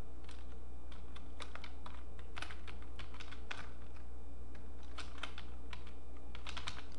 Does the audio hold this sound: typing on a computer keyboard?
yes